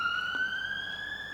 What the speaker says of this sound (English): Every time I hear a siren, I think, that's it, they're coming for me